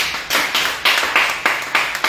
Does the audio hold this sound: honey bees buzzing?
no